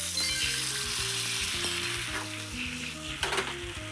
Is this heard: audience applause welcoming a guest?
no